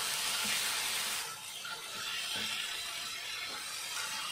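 Minced meat for martabak filling stir-fries in a pan, giving a steady, soft hiss and sizzle with faint scraping, close and unbroken, no talk over it.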